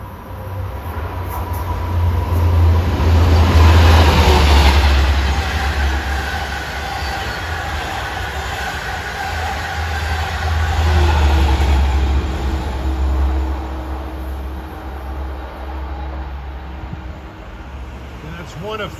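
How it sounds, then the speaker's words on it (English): A Long Island Rail Road dual-mode train, number 660 from Penn Station to Port Jefferson, passes eastbound at Westbury on triple track, a loud sustained rumble and engine drone that swells and lingers throughout, with a voice talking over it. "Well, smoking east at 532 is train 660,"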